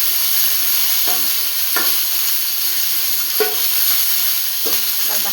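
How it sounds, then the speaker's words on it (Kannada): Sweet corn frying in a pan, a steady bright sizzle throughout with several short stirring scrapes and clinks spaced a second or so apart, close and fairly loud, no talking. "ಸ್ವೀಟ್ ಕಾರ್ನ್ ಹಾಕ್ಕೊಂಡು ಸ್ವಲ್ಪ ಫ್ರೈ ಮಾಡ್ಕೊಂಡು"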